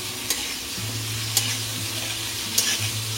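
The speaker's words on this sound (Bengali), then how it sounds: "এখন কাঁকরোলগুলো ভেজে নেব" Teasel gourd frying in mustard oil with salt and turmeric, a steady close sizzle with a low simmering hum and a few sharp clicks from stirring.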